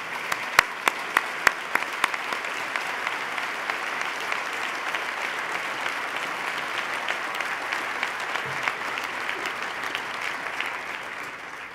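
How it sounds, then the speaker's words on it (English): An assembled audience gives a round of applause to state legislative leaders, opening with a few sharp, loud claps near the front before settling into sustained, dense clapping that carries on unbroken. "Please stand, gentlemen, so we can give you a round of applause."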